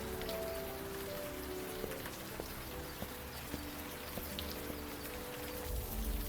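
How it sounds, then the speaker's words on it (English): Steady rain falls in the video game Old Skies, a constant dense patter with occasional faint knocks and drips underneath, no speech. "This friggin' rain."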